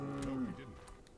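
A single low cow moo from the video game The Witcher, a short drawn-out bellow that falls off quickly, heard close and alone with no talk.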